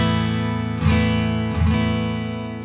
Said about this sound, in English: You can strum the whole guitar, and it sounds like this.